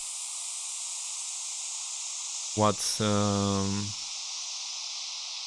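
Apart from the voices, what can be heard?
synthesized white noise with reverb effects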